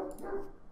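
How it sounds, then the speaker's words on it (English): A dog gives a short, fairly faint bark somewhere in a room, a single quick yelp-like sound with no talk over it. "Why is he barking?"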